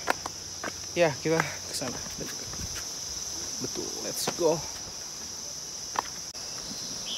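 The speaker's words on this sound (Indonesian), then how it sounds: "itu suara jangkrik kayaknya deh" Crickets chirp in a steady, high-pitched trill throughout, with people talking over it and a few footsteps.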